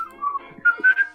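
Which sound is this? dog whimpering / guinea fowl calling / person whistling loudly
person whistling loudly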